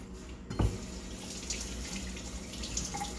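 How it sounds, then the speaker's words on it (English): Tap water runs steadily into a kitchen sink while dishes are washed up after cooking, a continuous hiss with a brief louder splash near the start and no talking. "you gotta wash everything you use"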